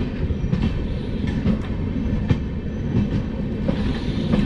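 Somnath Express rolls into Veraval railway station, heard from inside a sleeper class coach as a steady low rumble with rhythmic clicks of wheels over rail joints and no talking.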